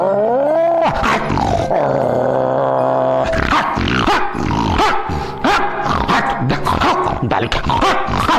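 A voice mimics a native street dog, starting with a low growl and long drawn-out howl, then breaking into a rapid series of loud, close, rough barks.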